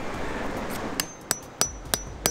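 Hammer blows on a chisel strike rock while fossil hunting, five sharp metallic taps spaced about a third of a second apart, close, over steady outdoor background noise.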